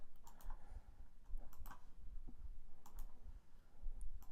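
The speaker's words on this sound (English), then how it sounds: "right-clicking every time I do that" Computer mouse right-clicking while working in Blender, heard as a series of faint, close clicks spaced irregularly over a low background hum.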